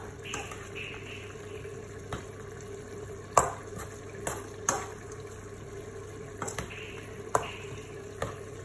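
Rice being stirred with olives and marinade in a Cookeo multicooker for stuffed squid, soft scraping and occasional light clinks of a spoon against the pot over a steady low appliance hum.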